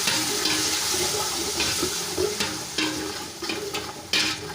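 Tomatoes sizzle and spatter in a pan as they are stirred, a dense wet hiss with occasional louder scrape bursts, close and continuous without talk.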